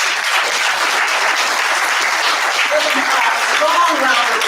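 A strong round of audience applause at a community college Black History Month program, loud, dense and sustained clapping from a crowd, with faint voices rising near the end.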